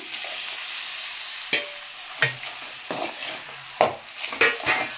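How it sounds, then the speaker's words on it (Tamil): Crushed crab pieces, legs and all, stir-fried in a pan with a little salt: steady faint sizzling broken by sharp spatula scrapes and knocks against the pan at irregular intervals, no talking. "இப்போ நம்ம இடித்து வச்சுருக்கிற நண்டு எல்லாமே காலெல்லாம் சேர்த்து அதிலே போட்டுடலாம்."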